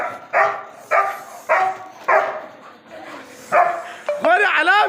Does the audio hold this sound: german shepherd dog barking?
yes